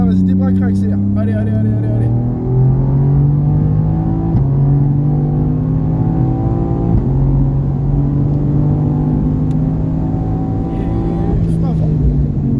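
Race car accelerating hard on the Mireval track, engine note climbing through the gears in loud, continuous revving with brief shift dips, while an instructor's voice talks over it throughout.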